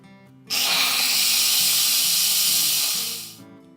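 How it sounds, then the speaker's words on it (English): Instant Pot pressure cooker venting steam in a quick release through a diverter accessory: a loud, steady hiss that starts abruptly, holds for about three seconds and fades, with faint background music around it. "now I'm going to do a quick release, and I'm using my little accessory that turns the steam away from my cabinets"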